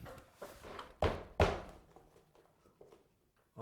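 Nail gun firing into step crown molding during installation, two sharp thunks about half a second apart, close and loud, with lighter taps and handling knocks around them.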